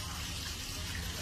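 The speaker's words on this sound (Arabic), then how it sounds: "بوري ساله ماي طين" Muddy, polluted water pours continuously from a pipe in Baghdad's al-Sulaikh area of Adhamiyah, a steady close rushing trickle with faint voices in the background.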